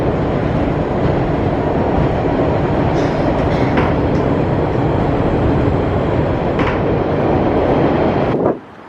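A train rolling along in Boston gives a loud, continuous rumbling roar with faint rattles and clicks from the rail car, steady until it drops off abruptly at the end.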